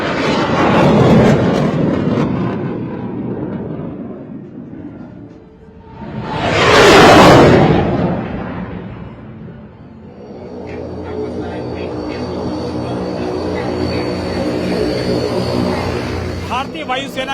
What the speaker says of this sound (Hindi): भारतीय वायुसेना का सबसे भरोसेमंद वो विमान जो मालवाहक विमान भी कहा जाता है